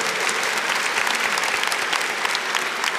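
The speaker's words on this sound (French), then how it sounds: "on peut applaudir, on peut applaudir" A room full of people applauds steadily, a dense, continuous patter of clapping filling the whole stretch.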